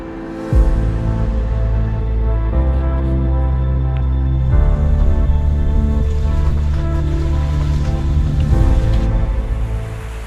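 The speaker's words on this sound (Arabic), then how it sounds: "حيث يستمر نهر تشاميبيارا بالتدفق" Steady broadband rush of river water flowing through a dense forest valley, loud and close with a constant churning texture and no talk.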